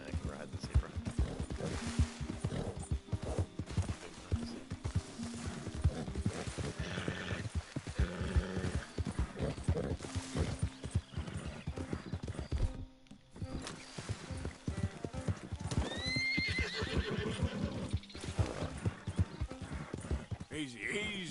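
Zebra hooves clip-clop steadily in Red Dead Redemption 2, close and fairly loud, with whinnies, game ambience and people talking over them throughout.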